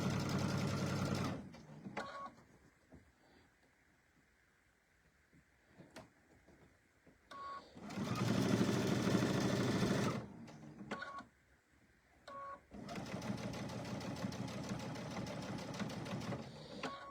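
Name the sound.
sewing machine stitching a seam on a tote bag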